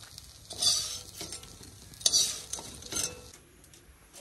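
Short bursts of sizzling as bay leaf and cumin hit hot oil, with a few clinks and stirring scrapes in between, quiet pauses separating them.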